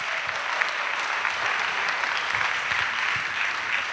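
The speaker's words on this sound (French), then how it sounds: "Vous êtes très fort pour applaudir." Congregation applauding at an annual missionaries' retreat in Côte d'Ivoire, a sustained wash of dense clapping from many hands, even and moderately loud throughout.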